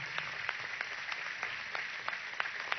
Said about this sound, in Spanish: Para ellos pido un aplauso